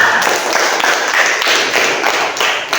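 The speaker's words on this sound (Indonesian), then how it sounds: "Berikan tepuk tangannya untuk teman-teman kita semuanya." Classroom applause for a presenting student group, a loud, close cluster of clapping hands with irregular bursts, lasting about three seconds.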